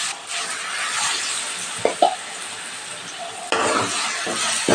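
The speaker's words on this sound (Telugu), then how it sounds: "ఇప్పుడు మనకి తాలింపు గింజలు బాగా ఫ్రై అయిపోయిన తర్వాత ఇంకా స్టవ్ ఆపేసుకొని ఈ పచ్చడి అయితే దీనిలో వేసేసుకోవటమే" Steady frying sizzle from a pan of tempering seeds, with the stove turned off as a sour, spicy dried-red-chilli chutney is stirred in; a few sharp spoon scrapes and clinks stand out, with no talking.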